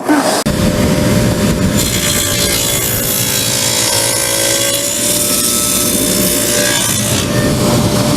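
A power saw cuts a deep dado into wooden shelving stock for a ladder chair, making a loud, continuous whining and rasping cut that holds steady for about eight seconds with no talk.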